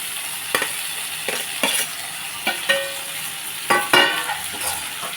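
Raw banana pieces for a curry stirred in a hot pan, a steady sizzle broken by repeated scraping strokes of a spoon against the pan, close and fairly loud.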